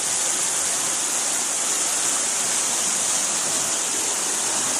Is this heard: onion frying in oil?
no